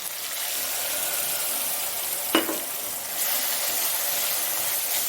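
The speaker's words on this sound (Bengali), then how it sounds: "এবার আমি এর মধ্যে গুলে রাখা পেস্টটা মশলা পেস্টটা দিয়ে দিচ্ছি" Spice paste fries with paneer in a pan, making a dense, steady sizzling hiss close up, with one brief sharper splash of sound midway.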